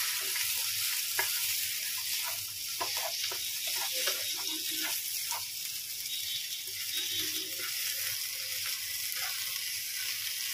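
Vada pav potato filling being stirred in a pan, with soft repeated scraping and light sizzling close by and a steady hiss underneath.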